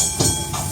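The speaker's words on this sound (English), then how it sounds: "All aboard for the red train." Red sightseeing train rolling through St Augustine, a brief close burst of rumbling wheels and mechanical clatter with no talking.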